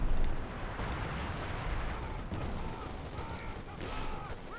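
Battle gunfire in Company of Heroes 2, with American cavalry riflemen and German troops trading shots: dense crackling bursts and rattling volleys with low rumbling blasts, continuous and moderately loud.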